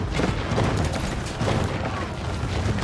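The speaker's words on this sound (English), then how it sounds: "This White Tower is going to go down to the cannons." Cannon fire pounds a stone tower during an Age of Empires IV battle, with dense overlapping booms and crashes rolling continuously under a commentator's voice.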